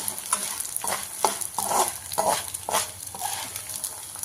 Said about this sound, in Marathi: दहा ते वीस सेकंदामध्येच आपला डिंक तळून तयार होतो